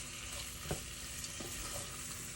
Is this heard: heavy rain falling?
no